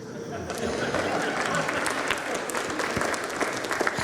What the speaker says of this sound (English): We knew that would get an applause.